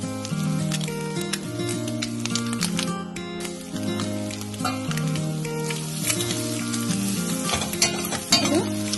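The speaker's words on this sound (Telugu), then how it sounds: "ఇలా ఫ్రై అయ్యాయి ఎగ్." Eggs fry in a pan for egg fried rice, a steady, loud crackling sizzle with spattering pops and occasional stirring scrapes throughout.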